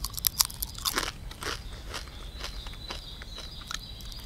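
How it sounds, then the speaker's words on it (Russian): Potato chips crunch loudly at a May forest picnic, with sharp close bites early, then softer, steady chewing crackles continuing throughout, with no talking. "Так хрустят вообще."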